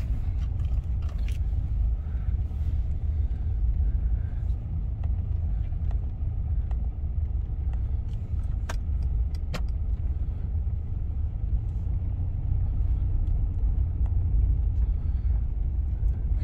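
Mercedes C-Class C220d Sport Premium Plus diesel car driving over a bumpy road, heard from inside the cabin as a steady loud low rumble of road and engine noise with occasional small knocks and clicks, no talking.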